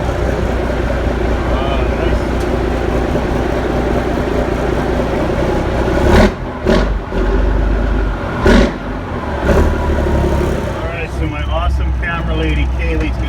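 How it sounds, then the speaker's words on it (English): Peterbilt 359 truck engine fitted with new straight pipe exhaust idles with a deep, loud rumble, revving in several sharp bursts midway with brief drops between, and people talk over it. "let's see what that new exhaust sounds like"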